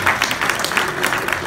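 Brief burst of loud, dense audience applause at a cycling team presentation, saluting the British national road race champion; close and continuous with no talk over it.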